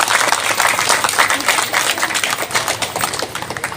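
A crowd at a local MLA's shop inauguration event claps loudly, dense steady applause of many hands lasting several seconds, close and continuous with a faint voice or two underneath.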